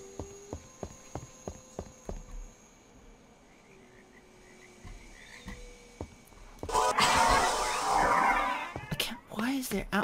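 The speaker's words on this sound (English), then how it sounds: "There's frogs in my ear." Frogs croaking in a dungeon in a Harry Potter video game, a run of regular low croaks repeating in a steady rhythm, followed later by a loud burst of noisy game sound.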